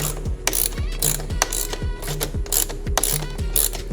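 A hand ratchet clicks rhythmically while tightening T Rex Racing frame slider bolts on a 2025 Kawasaki ZX6R motorcycle, each quick run of close, crisp pawl clicks repeating every half second or so.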